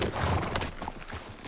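Horse hooves clip-clop steadily on the ground while riding in Red Dead Redemption 2, a continuous close trotting rhythm with a brief whinny-like tone, no talking.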